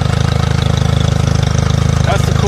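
A Mariner Mercury outboard motor runs steadily at idle, its loud, even low chugging pulsing throughout while water spurts from the exhaust; the motor is being checked for an overheating alarm fault.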